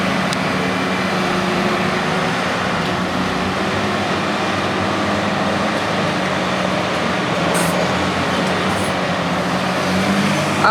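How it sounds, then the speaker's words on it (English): A tanker truck rumbling around a construction site gives a continuous loud, broad engine drone and rolling noise that holds steady throughout, with no voices over it. "Now the tanker's coming around."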